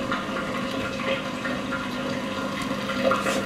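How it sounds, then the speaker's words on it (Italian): A Zerowatt Spaziozero 062 washing machine drains its first rinse water with the drum turning, a steady close rushing and gurgling flow that runs on without pause. "Adesso la macchina sta scaricando l'acqua"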